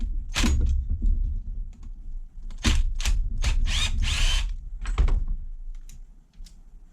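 Power driver working small fine-threaded metal screws on an RC nitro buggy, short bursts of whirring and ratcheting with clicks and handling knocks between, close and fairly loud, no talk.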